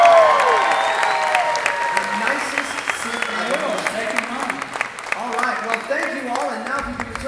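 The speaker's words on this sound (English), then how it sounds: "round of applause." Audience applause at a Star Wars Weekends stage show, steady clapping from a crowd that carries through the whole stretch, with a voice talking over it and music or tones mixed in before it cuts off at the end.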